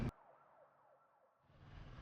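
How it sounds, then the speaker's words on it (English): A siren wails faintly in the distance, its pitch rising and falling in slow sweeps, heard during a motorcycle tour of the Scottish NC500 route, with engine rumble swelling near the end. "can hear the police sirens coming now."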